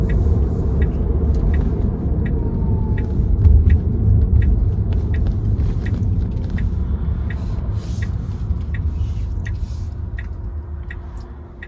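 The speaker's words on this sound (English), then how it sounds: "Road noise is, well, basically that's the only noise you would hear aside from the music that you would want to play" Low, steady road rumble fills the cabin of a 2024 Tesla Model 3 while driving, a broad constant drone with faint periodic ticks and no other noise.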